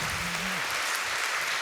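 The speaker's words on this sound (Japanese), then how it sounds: "拍手。" Audience applause at a commemorative talk event for the 27th Tezuka Osamu Cultural Prize: a steady wash of many hands clapping that fills the whole moment, with the tail of a voice fading at the start.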